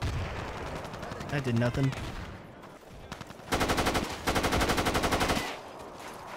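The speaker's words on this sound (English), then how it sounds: "I tried to shoot you gently" Automatic gunfire in the video game Battlefield 2, in an arctic warfare mod, loud rapid bursts in two long volleys after a short spoken remark, with quieter shots earlier.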